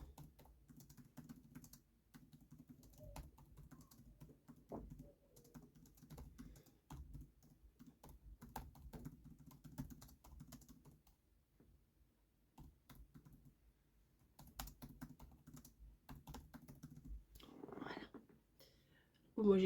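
Someone types on a computer keyboard in bursts of soft, close clicks through most of the stretch, with a short pause midway and a louder rustle near the end.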